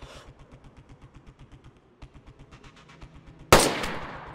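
Gunfire in a team shooting game: a steady rhythmic run of quick rattling shots for a few seconds, a brief pause, more rapid fire, then a sudden loud blast near the end.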